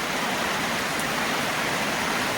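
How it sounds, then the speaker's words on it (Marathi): Heavy monsoon rain pouring steadily over a farm, a dense, loud, unbroken wash of noise with no pauses. "पाऊस यायला लागला आहे खूप"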